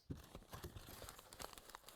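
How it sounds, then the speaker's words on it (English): Fabric scissors snip and tear through sellotape on a package, giving a quick series of close crinkling, ripping crunches. "Do not cut sellotape with your fabric scissors"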